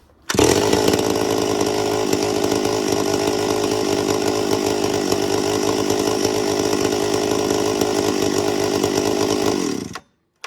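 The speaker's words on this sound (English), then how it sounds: "the saw is now warmed up, and if I'm going to cut with that a lot, I'll leave it just sitting here at idle" A warmed-up chainsaw idles steadily and loudly at close range for about nine seconds with a constant buzzing drone, then cuts off abruptly near the end.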